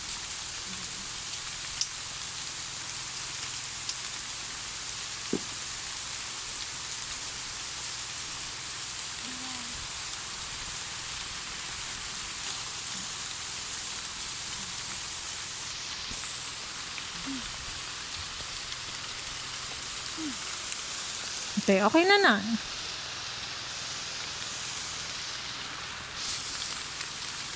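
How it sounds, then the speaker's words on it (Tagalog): Heavy rain pours steadily over an outdoor catfish-farm site, a constant wide hiss throughout, with a short burst of louder clatter near the end and a brief exchange of voices. "Huwag kusog ng ulan."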